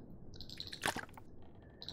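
Drinking from a water barrel in the video game The Long Dark gives a soft, wet squish and drip sound, one brief burst midway over quiet background, with no talk.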